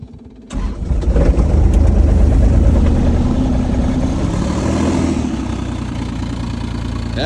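A cold engine starts and settles into a steady, loud idle close by on a freezing morning after days of rain, running continuously as it warms up, with no talking.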